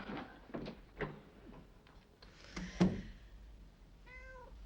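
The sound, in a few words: cat meowing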